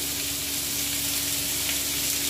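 Watermelon rind with salt and turmeric fries in a pan, giving a steady, close, hissing sizzle with faint scraping from stirring, no voices.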